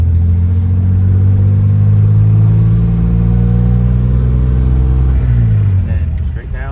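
Engine of a 1953 Chevy 210 pulling in third gear at low RPM, a loud, close, deep rumble that climbs steadily in pitch, with a voice briefly heard.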